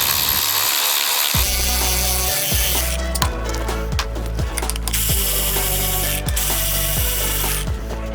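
A ratchet clicks rapidly and loudly, close up, in repeated bursts while the valve cover bolts come off a Jeep engine during a stroker build, over a constant loud mechanical hum.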